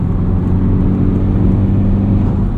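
A Honda Civic Type R FL5 with a rear motor mount cruises in sixth gear on the highway at about 2,700 RPM. Its engine makes a steady, loud low drone mixed with road and cabin hum.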